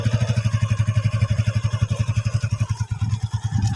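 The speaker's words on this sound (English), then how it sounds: "pull the clutch until full, then kick the shifter to enter the first gear" A manual motorcycle engine chugs steadily in first gear as it pulls away, a loud, close, rhythmic low thump with no voices.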